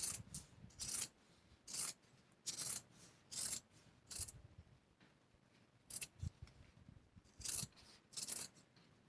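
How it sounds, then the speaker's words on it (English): Scissors cutting through denim fabric for hoop earrings, crisp snipping strokes repeated about ten times in an uneven rhythm, close and fairly quiet with no talking. "So I'm going to cut some of this denim."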